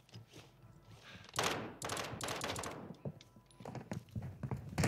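Sniper rifle fire in Call of Duty: Warzone 2, a sharp loud crack followed by a burst of rapid shots and clattering impacts, then scattered further shots amid busy game noise.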